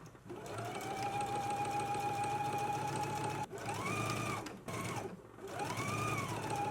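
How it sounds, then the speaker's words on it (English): A sewing machine stitches the upper collar of a jacket lapel, running steadily with a continuous motor whir, pausing briefly twice before resuming, close and fairly loud with no talking. "let's go ahead and stitch the upper collar now"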